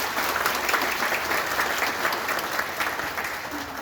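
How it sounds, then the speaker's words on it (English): A crowd applauds during a Manchester, Georgia development presentation, thanking a business opening a coffee roasting operation; steady, even clapping fills the room at moderate volume without any voices. "Give them applause."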